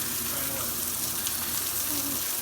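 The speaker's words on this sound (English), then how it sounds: "You can hold this while I flip these sausages." Sausages sizzle in a frying pan on a breakfast stovetop, a steady hiss and crackle that runs evenly throughout at moderate level.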